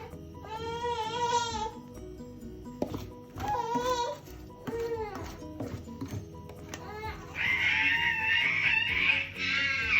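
A baby wails in repeated, drawn-out cries in a home kitchen during cake making, loud and close with short gaps, rising into a long high-pitched scream near the end, over clattering background noise.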